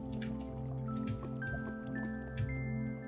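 Water trickles and drips inside a cave in Minecraft, a soft, steady liquid patter with scattered drops over a quiet, humming game backdrop.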